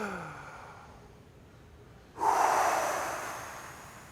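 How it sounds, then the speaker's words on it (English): After a quiet pause, a sharp, deep inhale through the nose and mouth starts suddenly and then tapers off, close and clear, in a breathing exercise. "Now take a breath in."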